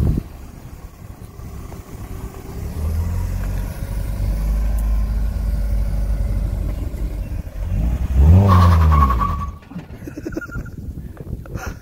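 A Mazda Miata converted to a manual transmission revs close by, its engine rising and holding, then spiking sharply to a high rev before cutting off into quiet.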